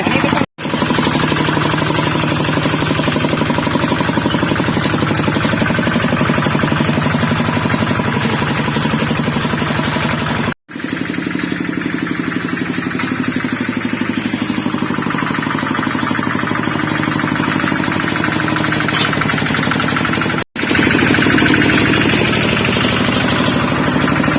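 A loud, steady engine of a homemade farm tractor drones and rattles continuously close by, with a few abrupt momentary cutouts along the way.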